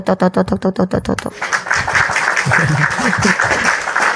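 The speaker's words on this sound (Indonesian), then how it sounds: "Tepuk gemuruh." A crowd bursts into loud, dense applause after several sharp claps at the start, and the clapping builds into a steady roar.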